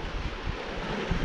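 Strong coastal wind buffets the microphone in steady rumbling gusts, with a surf-like wash beneath and no voices.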